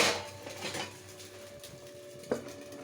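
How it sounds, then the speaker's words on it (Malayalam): Metallic clatter of a lid set onto a cooking pot, with a bright clank at the start and another sharp knock near the end over a faint kitchen hum. "ഇത് മൂടി വെച്ചു."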